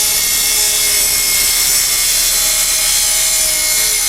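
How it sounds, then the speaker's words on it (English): Power saw cutting through rebar for a new driveway, a loud continuous high-pitched grinding whine that holds steady throughout, close by with no talk. "Tom's just cutting some rebar."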